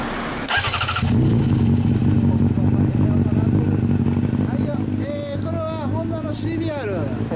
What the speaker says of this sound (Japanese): エンジンを聞かせて